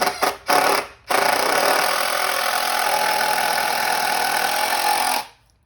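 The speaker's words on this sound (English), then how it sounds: "screw them together at each corner" A power drill drives screws into the 2x wood wall frame corners of a carport, two short bursts followed by a long loud steady whir that cuts off abruptly at the end.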